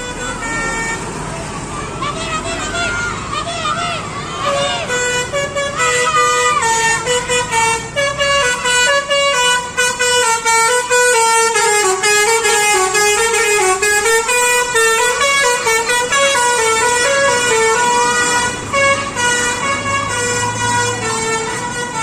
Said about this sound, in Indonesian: kali ini ada bus Harapan Jaya